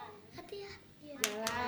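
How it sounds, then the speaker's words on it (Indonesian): A few children clap at a kindergarten, giving short, sharp bursts of applause in quick succession, mixed with children's voices and a teacher's speech. "Bagus, tepuk tangan."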